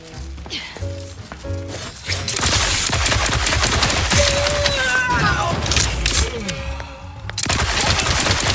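Rapid sustained gunfire in The Outer Worlds 2, loud bursts of automatic shots with mechanical clatter running for several seconds, mixed with game voices and a brief lull near the end.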